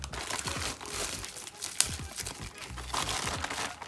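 A plain plastic shipping bag for wireless earbuds crinkles and rustles as it is unpacked, with close, irregular crackling bursts and one sharp tearing snap, fairly quiet.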